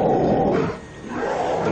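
A marsupial lion's roar as a documentary sound effect, a loud deep rumbling bellow that dips briefly in the middle before swelling again, heard alone.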